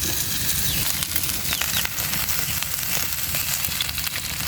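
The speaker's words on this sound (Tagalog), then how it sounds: "dito ko na rin lang piprituhin. So, lalagyan ko na ng mantika" Chicken frying in oil in a small pan, a dense, loud, continuous sizzle with rapid crackling pops throughout, close up with no talking.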